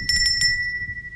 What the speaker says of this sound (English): gotta get a bell.